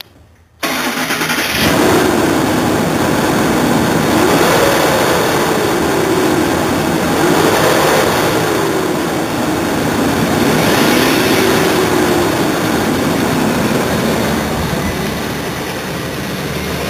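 A 2004 Ford Expedition V8 engine starts up, then idles loudly and steadily for a long stretch, rising gently a few times with light revs.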